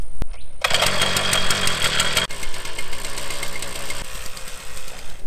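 A small gas engine on a fence-post tool runs at partial throttle, a loud, close, rattling buzz with a brief start-up click before it settles into a steady, slightly uneven drone.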